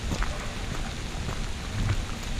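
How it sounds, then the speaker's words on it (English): Steady rain falls on an early-morning campsite at a hammock hang, a dense, continuous patter hitting surfaces nearby, with no voices over it. "It's been raining since probably about 3 a.m."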